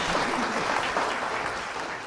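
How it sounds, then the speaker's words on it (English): Steady audience applause for contestants on a game show's grand prize round, a dense, even wash of clapping throughout. "let's have applause for Sherry and for Matthew."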